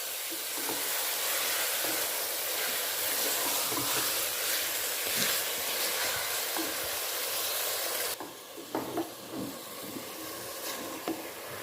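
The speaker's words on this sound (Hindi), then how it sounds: "इसको थोड़ा सा फ्राई करेंगे इसी बिरयानी हुए प्याज़ों में, मसाले में" Keema fries in a pot with browned onions and masala for a biryani, making a loud continuous sizzle and hiss. It quietens near the end, where a few stirring scrapes and knocks come through, and no one talks.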